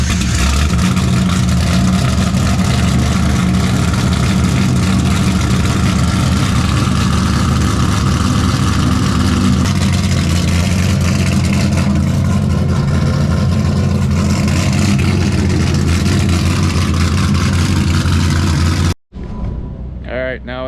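A Formula Drift car's engine idles and warms up, a loud steady rumble with occasional revs that cuts out abruptly near the end, followed by faint sounds.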